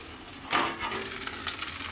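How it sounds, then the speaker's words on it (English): Food sizzles in a pan on a Cubic Mini wood stove in a tiny house, a sudden burst of frying hiss that settles into a steady soft crackle. "it's sizzling."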